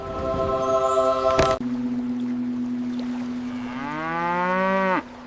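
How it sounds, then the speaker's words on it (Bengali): A cow stranded in floodwater lets out long, drawn-out moos, one sustained low call followed by a second that swells and bends upward before cutting off, with no talk. "ওই গরুটাকেও বাঁচাতে হবে। চলো ওর দিকে যাই।"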